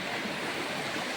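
A river flows with a continuous broadband rush of water, steady and full, close and unbroken for the whole short stretch.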